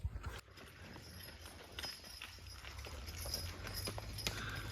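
Draft horses, a farm team used for horse logging, walk downhill with soft, irregular hoof clops under a steady outdoor rumble and wind noise, fairly distant and muffled.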